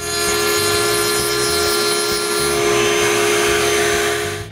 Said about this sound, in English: Still on the router table, I make a chamfer on the edges of the rails and stiles